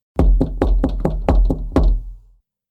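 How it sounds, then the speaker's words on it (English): A hard, loud knocking on a door rings out, seven heavy raps in a quick, even rhythm, each one echoing briefly through the house before it fades to silence. "there was a loud, sharp knock at the door, echoing through the house"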